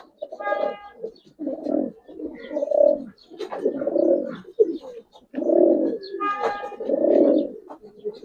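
Pigeons coo repeatedly in a loft of silver and flying breeds kept for wholesale sale, their deep rounded calls overlapping in steady bursts with a few brighter calls on top, close and fairly loud, with no talking.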